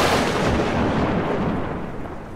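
A loud, rolling thunderclap in a storm with gusty wind, a dense rumble that fills the whole clip alone and eases off slightly toward the end.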